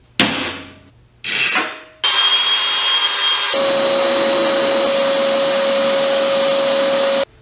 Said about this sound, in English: Guess the next step here is to cut this hole for the tweeter.